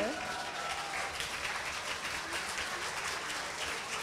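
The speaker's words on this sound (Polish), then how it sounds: "Daniel Kozik, wielkie brawa" Audience applause fills a hall at a Christmas carol concert, a steady, dense wash of clapping held at even loudness from start to finish, with no individual voices standing out.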